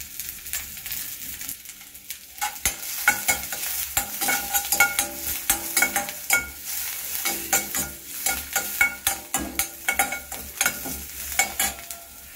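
Ginger garlic paste sizzles in hot oil over chopped shallots for a vegetable soup while being stirred, with steady frying crackle and repeated scraping strokes of a spoon in the pan, close and fairly loud, with no talking.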